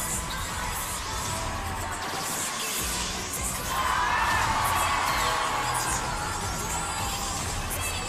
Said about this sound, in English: I love the crowd reactions.